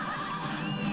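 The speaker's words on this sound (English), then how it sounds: "That horse be bucking." A horse whinnies in the Cuphead video game, a short, bright, wavering neigh lasting about a second, fairly faint but plain.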